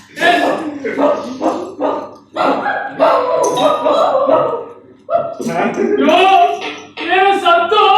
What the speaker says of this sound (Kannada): ಅವು ನಾಯಿಗಳು ಸತ್ತು ಬಂದು ಇನ್ನೇನು ಮಾಡ್ತಾರೆ, ಸುಮ್ಮನೆ ಇರೋ